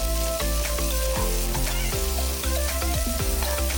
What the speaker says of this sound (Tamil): ஒரு மீடியம் சைஸ் வெங்காயத்தை நல்லா குட்டி குட்டியா கட் பண்ணி சேர்த்து லைட்டா சாஃப்ட் ஆகுற வரைக்கும் வறுத்துக்கோங்க.